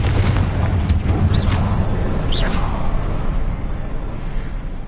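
Confringo fire spell explosion in the Hogwarts Legacy video game, a loud, close boom with a crackling, rumbling tail and brief high whooshes over continuous low rumble, without any talk.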